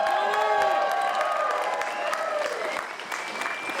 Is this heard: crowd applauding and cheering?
yes